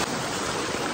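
Water pours steadily into a desi swimming pool, a continuous close rushing splash like a small waterfall, loud and unbroken with no voices.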